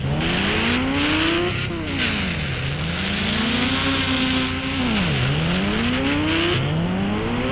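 The Ghost Rider motorbike's engine in the Indian Bikes Driving 3D mobile game revs up in repeated rising sweeps. Each climb drops back before building again, loud and continuous throughout.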